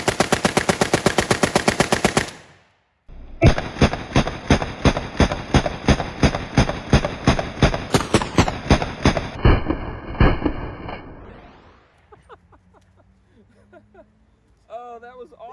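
A Sturmgewehr STG 44 rifle fires long, rapid bursts of loud, close gunshots in a steady automatic rhythm, then stops, followed by brief excited voices.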